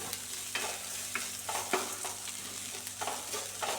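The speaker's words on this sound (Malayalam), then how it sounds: "സവാളയും മറ്റേ ഇൻഗ്രീഡിയൻസിൻ്റെ എല്ലാം ഒന്ന് ഉപ്പ് പിടിക്കും വരെ നമുക്ക് ഇതിനെ ഒന്ന് വഴറ്റിയെടുക്കാം" Onion and other ingredients sauté in a pan for a green tomato stir-fry, a soft steady sizzle broken by repeated scraping strokes of a spoon stirring at a regular pace, close and quiet.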